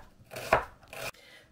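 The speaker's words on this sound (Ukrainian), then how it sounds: "маленьким квадратиком нарізаємо цибульку" Knife chopping onion into small squares for Ukrainian dolma, two quick crisp cuts on a board heard close and alone.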